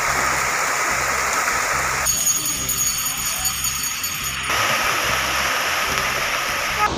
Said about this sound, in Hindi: जसपुर में बरसात से कई जगह जल भराव की समस्या हो गई है